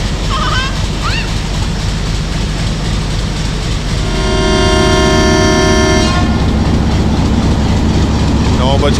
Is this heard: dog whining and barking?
no